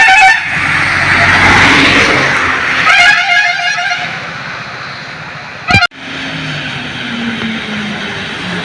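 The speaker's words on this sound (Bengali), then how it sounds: "দু একটা গাড়ি চলছে" Vehicles pass along a road in steady broadband rumble, with a sharp brief thump near the end and continuing traffic hum afterward.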